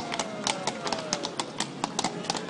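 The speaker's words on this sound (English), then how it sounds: "what is up with all these beautiful European cities and like horse-drawn carriages?" Hooves of a horse-drawn carriage clip-clop across the stone of Krakow's Main Market Square, a quick, irregular run of sharp nearby clacks over a busy outdoor murmur of people.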